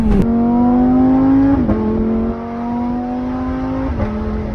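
A high-revving engine holds a steady harmonic drone, with short dips and jumps at about three quick gear changes made through shifter paddles; loud, close and alone, with no talk.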